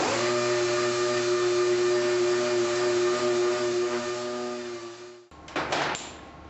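Power sander running a 3000 grit disc to wet-sand Corvette paint, a steady loud electric whine with a constant pitch for about five seconds, then it cuts off and a few clattering handling sounds follow.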